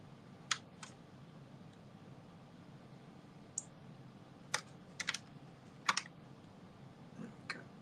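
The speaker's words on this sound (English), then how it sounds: "you can literally hear like the keyboards and all the keyboard shortcuts I'm doing" Computer keyboard typing and shortcut presses, heard as sparse, faint clicks and short bursts of keystrokes over a steady low background hum, with no one talking.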